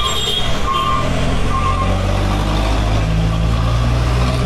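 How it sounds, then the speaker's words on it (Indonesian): Coal trucks roll past along a roadside, a loud, steady engine rumble and drone close by, with faint hissing and squeaks over the top and no voices. "Di sini di pinggir jalan, teman-teman ya, jadi banyak mobil batu bara lewat."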